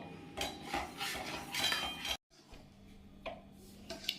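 A spoon scrapes and knocks around a pan in quick uneven strokes while milk mixed with bread paste for kesar malai sandesh is stirred, close and moderately quiet, with a short silent gap midway.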